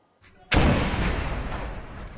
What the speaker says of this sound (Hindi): जम्मू कश्मीर में ये धमाके लाइन ऑफ कंट्रोल के पास अखनूर के इलाके में हो रहे हैं।